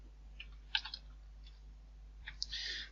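Keyboard keys tapped to enter router configuration commands, a few scattered clicks followed by a short quicker burst near the end, faint and close with no talking.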